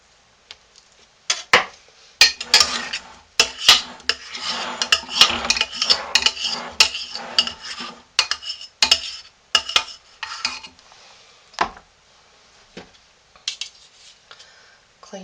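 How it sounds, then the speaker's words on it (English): A metal spoon scraping and knocking against a crock pot during hot-process lye soap making, giving a run of sharp clicks and rasping scrapes in irregular bursts, close and fairly loud, with short pauses and no talk. "Clean off my spoon again."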